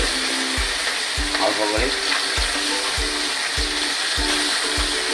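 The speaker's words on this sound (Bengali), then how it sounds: "মাছ ভাজা হচ্ছে, একটা একটা পিস করে ভেজে নেওয়া হবে" Small fish pieces fry in hot oil with a loud, continuous sizzle, broken by a regular series of low thumps or knocks at roughly half-second intervals, and a brief spoken word near the start.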